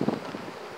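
Wind gusts against the microphone at an apiary in March, a low rumbling buffet that starts strong and settles into a steady outdoor rush.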